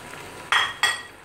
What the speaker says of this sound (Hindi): और साथ साथ हम चिकन को भूनते जाएंगे, उसमें चम्मच चलाते जाएंगे